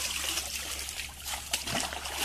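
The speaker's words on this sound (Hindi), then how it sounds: "अच्छे पानी से भी इनको एक बार अच्छे से वॉश करेंगे।" Water trickles and splashes steadily while a Rottweiler and a Husky are rinsed during a bath, a close, continuous dribbling wash with a few brief louder splashes.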